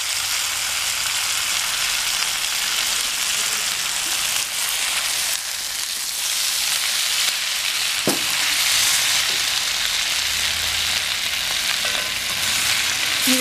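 Vegetable fried noodles with red chili sauce and tomato sauce being stirred in a hot pan, giving a steady, loud close-up sizzle with occasional scraping clinks of the spoon.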